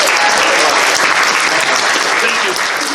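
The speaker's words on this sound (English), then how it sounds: "give a huge round of applause to our charity story for this segment." Steady, dense applause from a convention crowd, loud and continuous throughout with no breaks.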